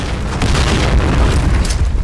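A loud, heavy grenade explosion in a video game rumbles through, a deep booming blast with crackling debris that sustains for the whole moment.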